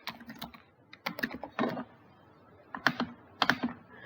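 Quick bursts of typing on a computer keyboard, the keystrokes clicking close up in short clusters separated by brief pauses, with no talking.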